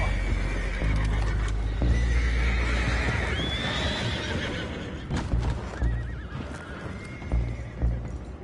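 Horses whinny and neigh over a dense bed of clattering hooves and commotion in the video game Red Dead Redemption 2, loud and close throughout.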